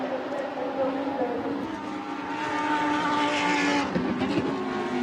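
Lamborghini race cars lap the Yeongam circuit in a Super Trofeo Asia race, their engines droning steadily and swelling as the cars close in, loud and continuous.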